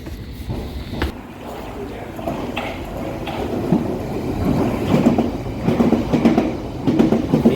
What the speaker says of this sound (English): the Piccadilly line just flies through.